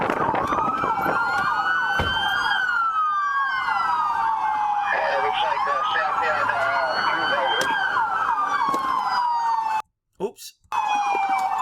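Several LAPD police sirens wail and yelp loudly at once, rising and falling close by, with traffic noise underneath and a brief break near the end.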